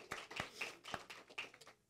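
A few scattered hand claps from a small audience at a university book talk, sparse and distinct, quiet and irregular rather than a full ovation.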